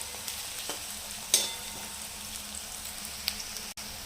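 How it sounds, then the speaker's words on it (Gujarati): Onions sautéing in a pan give a soft, faint sizzle, with a few light scrapes and taps from stirring. "વચ્ચે આમ હલાવતો રહીશું જેથી ડુંગળી તળીએ તૂટી ન જાય"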